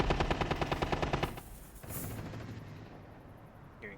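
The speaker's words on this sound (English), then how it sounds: "Hearing gunfire already being shot out." Automatic gunfire in the Rainbow Six Siege video game rattles in a rapid, evenly spaced burst for over a second, then fades into quieter ambient game noise.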